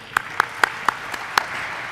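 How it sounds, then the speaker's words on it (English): A few people clap in a sparse, uneven rhythm at a bell-ringing ceremony on the National Stock Exchange marking a Vodafone Idea share listing: about six distinct, sharp claps, with a faint murmur of clapping at the end. "Truly worthy of the applause."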